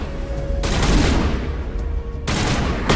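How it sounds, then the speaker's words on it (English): Gunfire in the video game Mass Effect comes in loud, dense bursts of rapid shots, with a short lull between two volleys and no talk over it. "Hey, you gotta stop shooting me, Rex."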